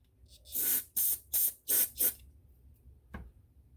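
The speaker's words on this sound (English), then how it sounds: "I'm going to squirt some compressed air through it" Compressed air blasts through a passage of a Dellorto VHB 29C carburetor from a 1973 Moto Guzzi, five short sharp hissing bursts in quick succession, then a single brief puff after a pause, close and alone.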